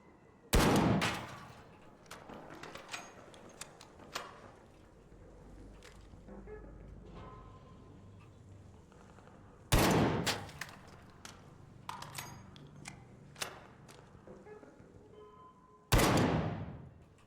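Gunfire in the video game Pathologic: three sharp, loud shots spread several seconds apart, each a hard crack with a short decaying tail, separated by quieter clattering and rustling sounds.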